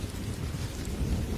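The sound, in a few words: thunder and light rain sound effect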